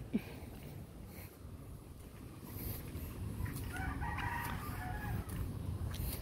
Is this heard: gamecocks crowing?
yes